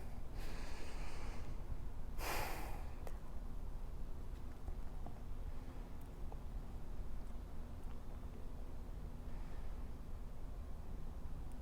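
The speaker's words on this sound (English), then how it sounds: "Just take a couple breaths here." Heavy, snort-like breaths during a yoga lunge hold, a loud burst of exhaled air near the start followed by steady breathing against a constant background hiss.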